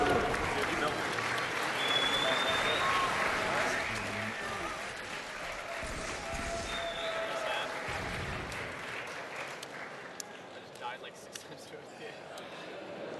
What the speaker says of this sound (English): The crowd clapping here in DC for final boss as they tie up the series 4-4.